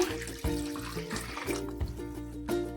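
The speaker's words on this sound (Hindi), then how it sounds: "फिर हम इसी पानी को इस कढ़ाई में डाल देंगे" Water poured from a bowl into a kadhai (wok) while cooking Bhatt ke Dubke, an Uttarakhand dish, a steady close-up pour with a rising, ringing tone as the liquid splashes into the pan.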